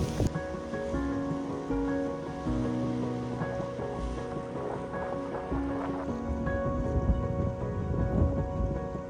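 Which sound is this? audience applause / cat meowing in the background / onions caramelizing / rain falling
rain falling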